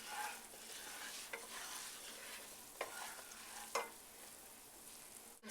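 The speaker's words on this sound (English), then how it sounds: "Alright, we're going to slowly add in our milk." Milk is slowly stirred into a pot of she crab soup, producing a faint, steady liquid swishing with a few soft scrapes and knocks of the spoon against the pot.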